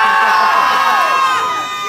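A crowd of children in the audience at a Wheel of Death show at Butlins Minehead screams loudly and continuously, the shrill cheering slowly fading slightly toward the end.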